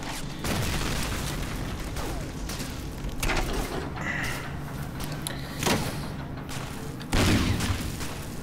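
Explosives and gunfire in the WWII shooter Medal of Honor Allied Assault, with several heavy booms and thuds spread across a constant rumbling battle bed, some blasts louder and nearer than others.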